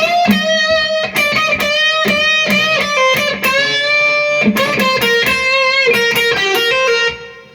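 Electric guitar in standard tuning plays the melodic solo line from a song, with sustained bent notes and vibrato in phrases separated by brief gaps, loud and alone.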